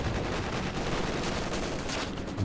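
A Company of Heroes 2 battle with LMG gunfire and an artillery barrage, a dense, continuous crackle of rapid shots and muffled distant blasts forming an unbroken wall of combat noise at moderate volume.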